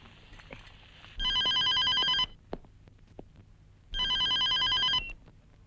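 A telephone rings twice in short electronic bursts, each about a second long, loud and close in a quiet room.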